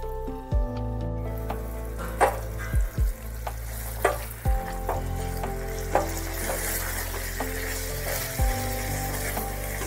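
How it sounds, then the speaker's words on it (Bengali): Spices being stirred in a frying pan for vegetarian chhana potol sizzle steadily, with several sharp spoon knocks and scrapes against the pan under continuous background music and no talking. "মশলা দিয়ে ভালোভাবে একটু নাড়াচাড়া করতে হবে।"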